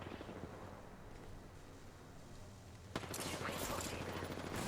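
Video game firefight with bursts of gunfire, an abrupt sharp blast near the three-second mark followed by louder, denser rattling shots, fairly close and continuous until the end.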